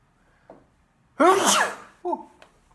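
A single loud sneeze, preceded by a quick sharp inhale and followed by a short vocal exhale, close to the microphone.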